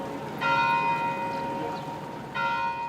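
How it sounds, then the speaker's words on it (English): Church bells ringing out across the city of Graz, clear sustained tolling with two distinct strikes whose tones hang and ring on, moderately loud over a faint background hum. "church bells rang out through the city for a minute's silence."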